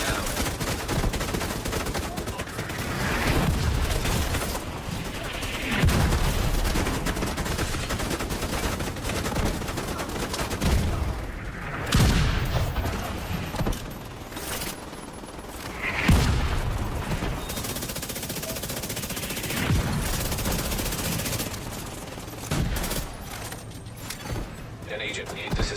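Dense gunfire in the video game Division 2, bursts of rapid shots and booming impacts rolling continuously over a steady game soundscape, with voiced game callouts mixed in.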